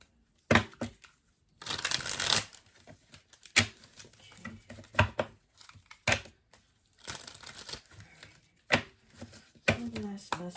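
Tarot cards shuffled and handled up close, with bursts of riffling and crisp slapping card noises separated by brief quiet gaps, accompanied by soft incidental sounds.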